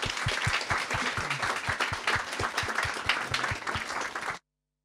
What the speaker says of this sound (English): please give our guests a warm round of applause